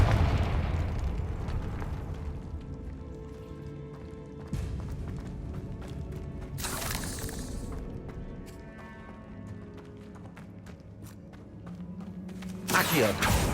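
Confringo blasting spell explosions in the Hogwarts Legacy video game, with several booming bursts and thuds over a continuous game soundtrack, a sharp burst near the end.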